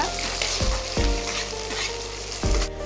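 Chopped onions sizzle and crackle in hot oil in a pan, a steady close frying hiss with a few stirring scrapes, no voices.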